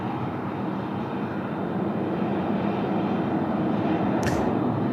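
Velocity Airbus A321neo taking off from runway 34 left, a steady broad jet roar holding loud and continuous throughout, with a brief high click near the end.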